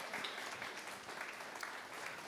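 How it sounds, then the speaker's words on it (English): A live audience at a fashion festival open mic night applauds with dense, faint, steady clapping throughout. A voice is faintly present beneath it. "Big applause."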